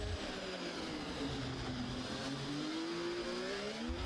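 Race cars in a Singapore race in a racing video game, a steady loud engine drone with rising and falling revs running continuously throughout, no voices.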